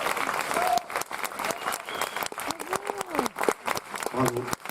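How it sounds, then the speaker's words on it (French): Theatre audience applauding a performer at an arts show, with scattered shouts and voices calling out through the clapping, which fades briefly then swells again. "Applaudissements pour Florence Cressman, s'il vous plaît"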